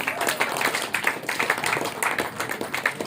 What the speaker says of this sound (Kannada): ವುಮೆನ್ಸ್ ಡೇ ಎಲ್ಲ ನಡೀತಾ ಇರೋದು ವುಮೆನ್ಸ್ಗೆ ಚಪ್ಪಾಳೆ ಬರಲಿ